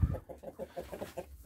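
Chickens clucking in a quick, regular series of short calls, close by, after a brief thump at the start.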